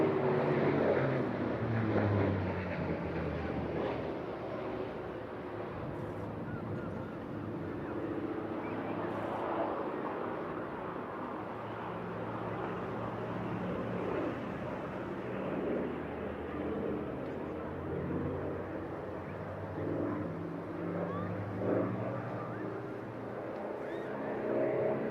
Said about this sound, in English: Sound of that Centaurus engine there, big again beast of an engine, a Mark 18